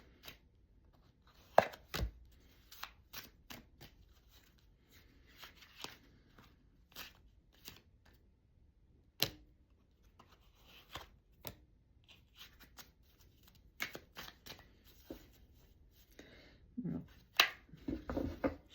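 Quiet, sporadic riffles and snaps of tarot cards being shuffled and tapped during a reading, with irregular bursts separated by near silence.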